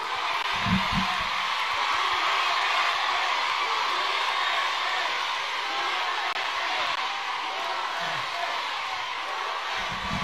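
Filipino overseas workers in Hong Kong roar and shout together, a dense, steady wall of crowd noise running throughout, with a few brief louder bursts rising out of the din.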